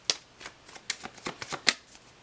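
Tarot cards shuffled and drawn by hand in a series of quick crisp riffles and snaps, close and fairly loud, with no voice over them.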